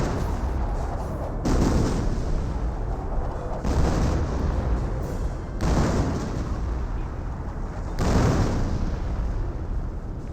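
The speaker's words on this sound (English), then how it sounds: "And now we've got a artillery barrage into the Wehrmacht's base, getting some great hits all across the line." An artillery barrage in the video game Company of Heroes pounds a Wehrmacht base, with heavy booming impacts landing every two seconds or so over a constant battle rumble.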